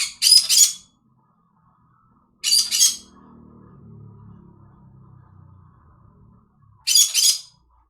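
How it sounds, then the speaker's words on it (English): Birds give three short, bright squawking chirp bursts spaced apart by quiet gaps, with a faint low rumble in between; no voices. "What do you birds want?"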